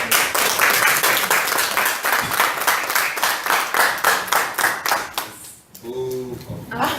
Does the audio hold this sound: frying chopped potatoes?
no